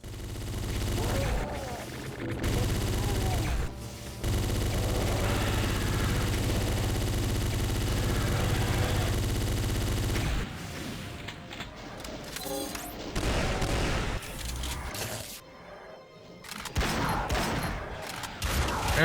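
Rapid video-game gunfire from a Doom mod rattles in dense, loud bursts over a steady mechanical drone, breaking into choppier shots and blasts in the second half.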